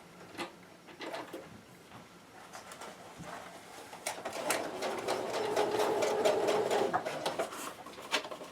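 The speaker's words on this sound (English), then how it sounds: "For this, we simply fold the edges down and stitch them in place." A sewing machine stitches down a folded fabric hem. Soft, quiet tapping starts at first, then builds into a steady rapid mechanical whir over the second half, with no talk.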